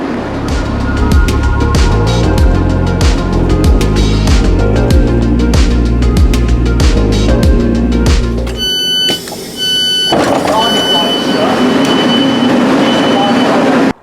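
A Class 158 diesel multiple unit rumbles loudly leaving Chester, with rhythmic clatter and a heavy low engine drone, then a sudden shift to a quieter interior hum with faint tonal beeps.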